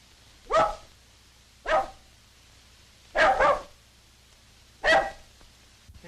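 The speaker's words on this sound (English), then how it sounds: "There's that bark again." A dog barks four separate times at spaced intervals, each bark sharp and moderately close, with a faint hum underneath in an old 1929 film soundtrack.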